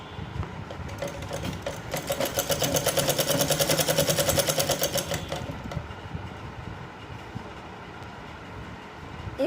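Sewing machine stitching the collar of a night dress shirt, a fast steady mechanical whir that swells louder for a few seconds then eases off, close-up with no talking.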